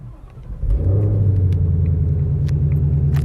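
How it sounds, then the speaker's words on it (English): A Ford Mustang Shelby GT500 starts up with a loud burst, then settles into a deep, steady exhaust rumble at idle, close by with no talking. "I'm going to start the car for you and let you hear the different exhaust modes"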